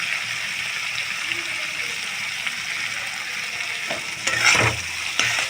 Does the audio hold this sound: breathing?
no